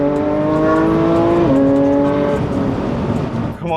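A Porsche GT3 sports car engine drones loud and close while driving, holding a steady high-revving note that drops in pitch midway as it shifts, then settles into a rougher cruise with no voices.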